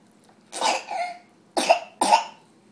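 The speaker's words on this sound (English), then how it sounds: "And I've got a cough." Three separate coughs, close and fairly loud: one longer, chesty cough followed after a pause by two short sharp coughs in quick succession.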